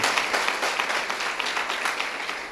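A congregation's big round of applause during a Spanish-language church service, dense clapping from many hands, steady and fairly loud, with no voice over it.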